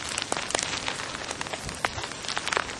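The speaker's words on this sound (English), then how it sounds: "Right now there's a lot of sleet coming down." Sleet comes down outdoors after a 2007 blizzard in Springfield, Massachusetts, a dense steady patter of fine icy pellets with scattered sharper ticks against surfaces throughout.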